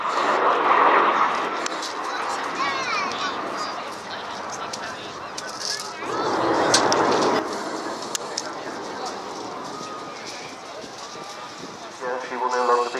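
Avro Vulcan bomber flying at the Airbourne 2015 airshow, its broad engine roar swelling in bursts and fading as it passes, with a commentator talking over it throughout.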